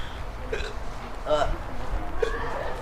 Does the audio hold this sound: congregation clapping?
no